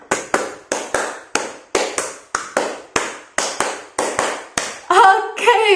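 Class of fifth-grade children in a primary school clapping a rhythm pattern together, sharp unison claps in a regular beat, about a dozen in sequence, ending with some voices and scattered noise.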